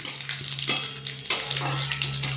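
Panch phoron whole spices dropped into hot oil in a pan with dried red chillies, giving a soft steady sizzle and light crackle with a couple of small clinks of utensil against pan, close and quiet.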